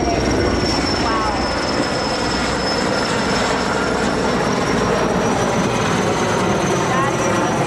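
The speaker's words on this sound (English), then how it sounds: "These helicopters coming in so close to these homes up on this hillside, making those targeted water drops" A firefighting helicopter comes in low and close over hillside homes for a targeted water drop on a brush fire, its loud steady rotor roar and turbine whine filling the scene without pause.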